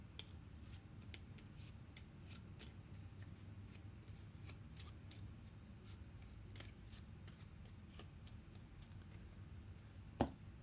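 Game cards shuffled by hand during a solo tabletop session of Rolling Realms and Rescuing Robin Hood: a steady run of soft riffling taps and papery snaps, quiet and close, with one sharper clack near the end.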